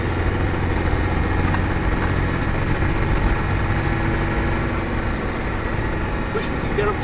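A Spanish 110 off-road vehicle's engine drones steadily as it pulls in third gear on a slippery road, a continuous low rumble with no shifts. Someone talks over the engine noise.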